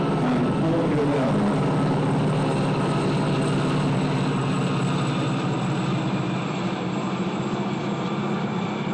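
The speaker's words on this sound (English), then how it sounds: "And the aircraft are going to bend out. Turn around and come back to face it from right to left." Propeller aircraft pass at an airshow in Ayr, Scotland, a dense, steady engine drone that stays loud and constant throughout, with faint speech in the background.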